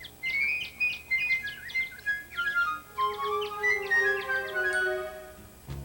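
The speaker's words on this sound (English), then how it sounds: "The bird is singing." A bird sings a quick series of high chirps and trilling whistles, bright and clear, alone with nothing else around it.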